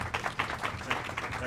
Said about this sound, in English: Please, huge round of applause for Dr.